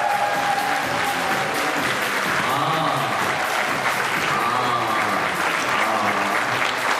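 Wedding guests on the groom's side clap together, a dense, steady wash of applause filling the hall from start to finish with no pauses.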